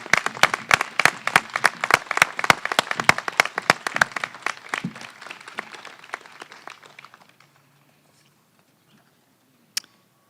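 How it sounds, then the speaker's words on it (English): Commencement crowd at a college graduation ceremony applauds, dense clapping from many hands holding steady for several seconds, then thinning and dying away into near silence, with one last sharp clap near the end. "if we applaud really, really loud, he may hear us"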